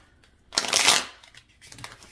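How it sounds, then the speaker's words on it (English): A quick riffle of tarot cards being shuffled, a short crisp burst followed by a softer second flutter, close and otherwise quiet. "Let me do a good shuffle."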